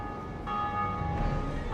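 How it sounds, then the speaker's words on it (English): A church bell tolls in the original Dark Souls reveal trailer, its sustained ringing tones layered over a dense, rumbling orchestral bed for the whole stretch. "You have the first bell here."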